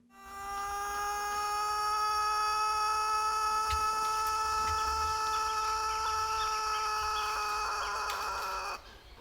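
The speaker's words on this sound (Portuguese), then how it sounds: "só o galo músico brasileiro, que domina o galinheiro com suas cores e o canto alongado" A Brazilian musical rooster (galo músico) in a henhouse gives one long, drawn-out crow. The song is sustained and melodic, with strong steady tones that hold for several seconds, close and loud, with no talking.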